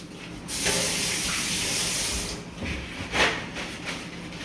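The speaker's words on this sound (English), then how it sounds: "Wash my hand." A kitchen tap runs steadily while hands are washed under the stream, a close hissing splash that shifts in tone as the hands move through the water, with no talking.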